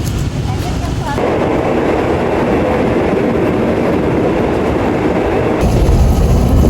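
A train rumbles along loudly up close, a dense steady roar with rattling and clatter that swells slightly near the end.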